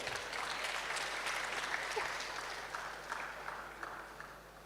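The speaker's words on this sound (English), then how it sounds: "A round of applause for her." Audience applause at a college freshers' orientation, a burst of many people clapping that starts strong and gradually tapers off, heard from a moderate distance in a large hall.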